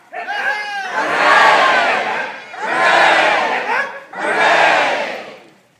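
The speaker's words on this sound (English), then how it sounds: "let us have a rousing cheer for success to American arms" A crowd of people gives a rousing cheer for success to American arms, three loud sustained waves of massed shouting, each swelling and dropping off, close and full.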